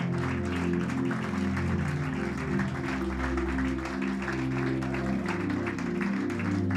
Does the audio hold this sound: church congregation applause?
yes